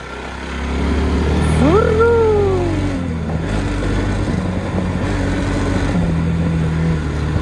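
A motorcycle rides along a rough road with a steady engine drone, rising briefly in a rev whine before it brakes and slows to a stop, loud and close with some talk over it.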